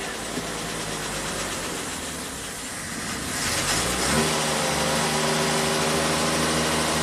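A 1967 Triumph GT6, parked since 1999, runs on fresh gas with no choke after a restart; a steady idle that rises and firms up partway through, then settles into a smooth, even drone close by.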